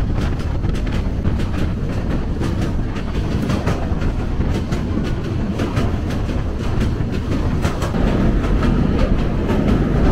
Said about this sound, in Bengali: কিশোরগঞ্জ এক্সপ্রেস এই মুহূর্তে প্রবেশ করছে নরসিংদী রেলওয়ে স্টেশনে